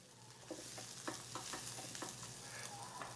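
Liquid eggs cook in a pan while a utensil pushes them around, giving soft rhythmic scraping strokes over a low, faint sizzle, close and quiet.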